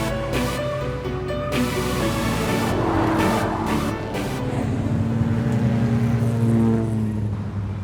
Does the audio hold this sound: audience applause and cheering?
no